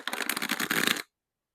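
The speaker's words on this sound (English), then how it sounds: "If you prefer ripple shuffling, let's see what that feels like." A deck of sturdy tarot cards of medium cardstock is ripple shuffled up close, a rapid crisp flutter of riffling cards lasting about a second before stopping abruptly into silence.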